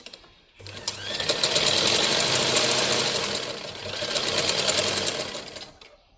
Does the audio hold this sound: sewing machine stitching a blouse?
yes